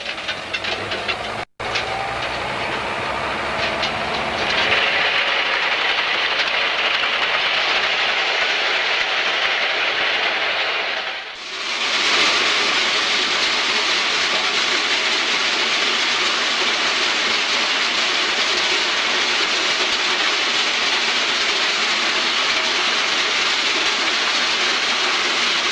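A railway track maintenance machine passes on a line used by coal trains, a steady loud hissing roar with rolling rail noise that swells after a few seconds, dips briefly, then carries on close by without voices.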